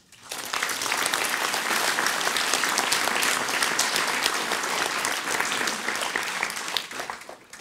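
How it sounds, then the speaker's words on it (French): A large audience at a mayor's New Year greetings event in Palaiseau breaks into loud, dense applause that swells quickly, holds steady for several seconds, then thins out at the end. "On peut les applaudir aussi."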